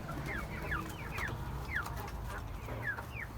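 Hens in a backyard coop cluck in short, repeated calls, some near and some farther off, over a steady low background hum with no talking.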